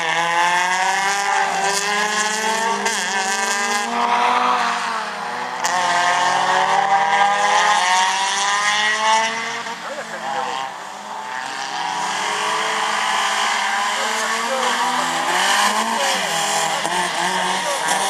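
A GT race car launches onto a timed slalom course, its engine note rising steadily and loud through the gears, with a brief lift before pulling hard again, while a commentator speaks over it.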